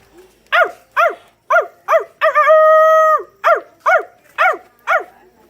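A person imitates a dog, giving about ten sharp rhythmic barks with one drawn-out howl-like bark in the middle, close and loud against near silence.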